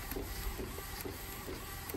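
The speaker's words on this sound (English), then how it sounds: "So now it is printing, no scratches" An Epson L18050 roll printer prints with a steady mechanical whir and soft rhythmic clicks about twice a second, close and continuous, with no talking.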